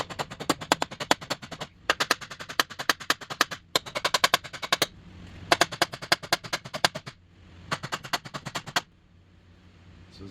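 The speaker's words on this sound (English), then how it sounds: "I did notice a sound change when I was pounding on this side" A hammer pounds on the oil pan of a 2011 Ford Escape 2.5L in rapid bursts of sharp metallic blows, several quick strikes per second, broken by short pauses, loud and close.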